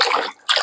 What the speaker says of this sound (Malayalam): 1 മിനിറ്റ് നേരം ഈ വെള്ളത്തിൽ ഇങ്ങനെ മുക്കി വെക്കണം